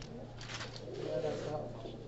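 Soft pigeon coos rumble up close from pigeons recovered from paralysis, mixed with a person speaking nearby.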